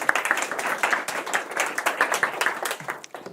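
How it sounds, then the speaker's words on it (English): An audience applauds a guest lecturer at a university talk, with dense, steady clapping from many hands filling the room for several seconds. "please give us a round of applause for Katherine"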